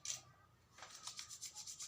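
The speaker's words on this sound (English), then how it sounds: "we'll then perform hand washing or hand rubbing." Hands rubbing together for hygiene before a catheter insertion, first as one soft swish and then as a run of quick rhythmic rubbing strokes, faint and close with no talking.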